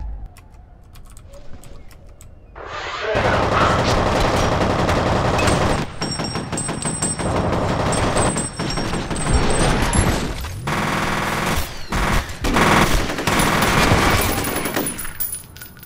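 Loud, dense gunfire in the F.E.A.R. video game, sustained rapid shots after a quiet opening and continuing nearly unbroken, with a voice speaking at times over the shooting.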